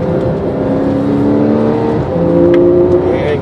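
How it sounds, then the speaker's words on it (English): Porsche cars at a parking lot driving event hold a steady, loud engine drone that builds slightly as they accelerate together, the tone shifting midway, with no talk over it. "Keep it close to the yellow car, and let's squeeze the gas."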